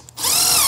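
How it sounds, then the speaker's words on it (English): A power drill bores holes in a Lego prop, spinning up after a brief quiet start into a steady, loud whine that holds for most of a second. "I'm gonna drill those holes now and then pop some screws in there"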